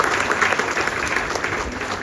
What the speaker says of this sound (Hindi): आप सब एक दूसरे की भी तालियां बजाएं